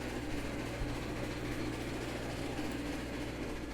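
A train of boxcars rolls along steadily in the railway game Railroads Online, a continuous low rumble and clatter of wagons at moderate volume with no break.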